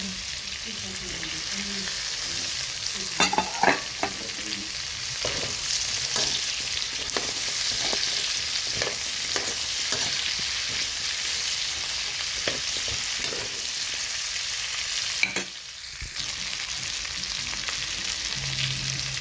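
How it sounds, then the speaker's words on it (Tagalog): Squash and string beans sauté in a pan for a Filipino vegetable dish, giving a steady close sizzle and frying crackle throughout with intermittent scraping stir strokes, briefly interrupted near the end. "Natapos ang kalabasa, gisa-gisahin muna."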